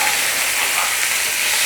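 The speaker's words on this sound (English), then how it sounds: "So you let them sizzle in that juice of the sausages." Breakfast sausages sizzle loudly and steadily in their own juices in a hot pan, a dense crackling hiss with no voices.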